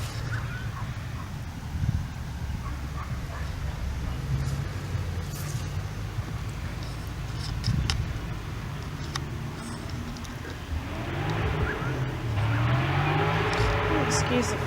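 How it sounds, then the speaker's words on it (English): Cars rush past a cemetery in a steady stream of traffic noise, with a louder vehicle swelling near the end while a person talks over the passing cars. "Excuse the crazy cars driving past."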